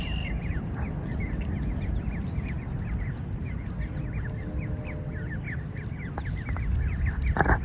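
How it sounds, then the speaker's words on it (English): Ducks and geese at a pond honk and quack continuously in a dense, nearby chorus, many birds calling over one another with rapid overlapping cries. "Come here, beautiful birds."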